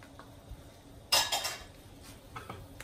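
Garlic and onion stirred in a pan for ginisang Baguio beans with beef: a sudden metallic scrape and clatter of a utensil against the pan, then a few lighter taps over a faint background. The sound is brief and close, with no talking.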